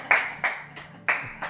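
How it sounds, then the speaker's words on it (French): Audience applause at a cinema evening event: a few sharp bursts of clapping rising and fading in quick succession, moderately loud with no voices. "on peut vous applaudir déjà bien fort."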